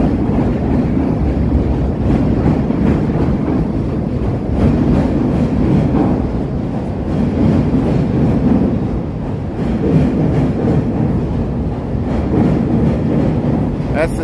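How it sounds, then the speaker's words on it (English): A Chicago L elevated train rumbles past near the Wells Street Bridge in River North, a loud, continuous roar of wheels and cars with wind buffeting the microphone throughout. "That's the sound of the L going by"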